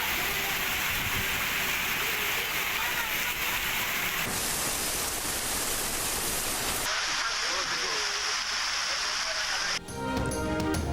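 Heavy monsoon rain pours down in Karachi, a loud, steady broadband hiss of downpour that changes abruptly between several shots.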